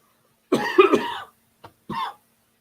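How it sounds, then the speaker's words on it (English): A single harsh, close cough, then two brief throat sounds after a short pause, with no talking, from a pastor during a sermon. "Got a cough to get off."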